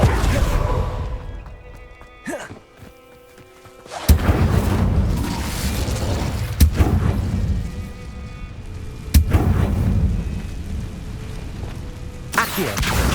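The Incendio fire spell in Hogwarts Legacy goes off several times as loud, booming whooshes with short, sharp onsets and rolling fiery tails, spaced a few seconds apart over game ambience.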